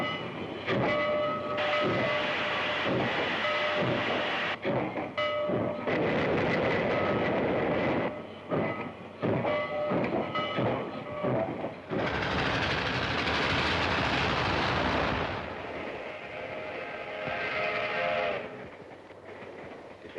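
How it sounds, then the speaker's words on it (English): A train pulls out of a station for Los Angeles, a loud, continuous rumble with rhythmic clanking of cars and a long, steady whistle-like blast midway, all close and dense with no talking. "it was a late train pulling out of the P&M station for Los Angeles"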